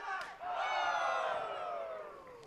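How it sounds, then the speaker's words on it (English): A wrestling crowd at an FSW event yells and cheers in a dense, rising roar, loud and sustained across the moment with a brief dip near the start. "And listen to the crowd."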